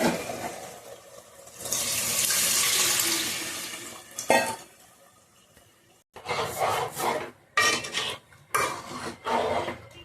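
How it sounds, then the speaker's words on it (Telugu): Tamarind juice pours into a pot of egg, brinjal and sweet potato curry with a soft, rushing splash lasting a couple of seconds, followed by scattered clinks and clatters of a utensil against the pot. "ఇప్పుడైతే నేను చింతపండు పులుసు అయితే పోస్తున్నాను ఇందులో"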